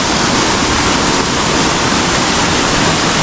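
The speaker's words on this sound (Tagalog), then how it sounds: "Ito yung pinakang falls." Kakawayan Falls in Infanta, Quezon, heard as a loud, steady roar of rushing, falling water close by, with no break in the sound.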